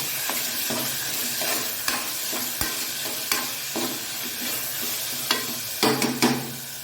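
Finely chopped tomatoes sizzle in a pan for a black chickpea kulambu while a spoon stirs them, scraping and knocking repeatedly over a constant frying hiss.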